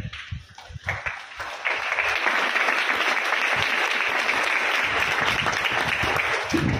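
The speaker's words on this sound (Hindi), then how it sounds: "आप ताली देर से क्यों बजाते हैं?" Audience clapping at a Jain sermon, starting with a few scattered claps then swelling into steady continuous applause from a seated crowd, fairly loud and unbroken.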